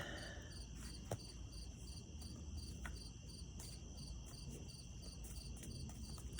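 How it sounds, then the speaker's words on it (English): Crickets chirp steadily in a quiet night setting, a high pulsing trill repeating throughout with faint background hush. "I can hear the crickets."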